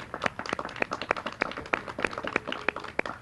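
Sparse, scattered hand claps from a small audience at a botanical garden mosaic unveiling ceremony, each clap crisp and separate, spaced fairly evenly and moderately faint.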